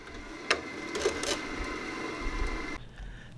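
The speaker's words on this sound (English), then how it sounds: "Now we're going to clean it up on a sander." A sander smoothing a stainless steel drawer pull made from a bolt, a steady mechanical whir with a few sharper scraping bursts near the start, cutting off abruptly before the end.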